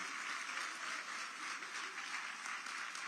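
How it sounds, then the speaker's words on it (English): An audience applauds volunteers at an event with a continuous wash of many hands clapping, even in loudness throughout and with no voices over it. "let's give them a large round of applause, y'all."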